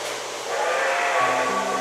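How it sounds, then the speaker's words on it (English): A model steam engine's whistle sounds as a sustained, steady tone over a hissy rushing background, clear and fairly close throughout. "who wants to see if we can make that one steam engine over there whistle?"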